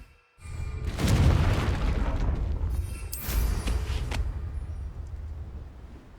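A Confringo spell explosion in the video game Hogwarts Legacy: a sudden loud boom after a brief silence, a rumbling tail, then a second burst about two seconds later, fading away.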